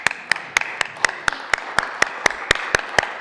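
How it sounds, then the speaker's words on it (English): Senators in the Colorado Senate chamber clap in unison, a slow, steady beat of about a dozen sharp, evenly spaced hand claps over three seconds, loud and close with light room noise between. "we're going to clap for these folks"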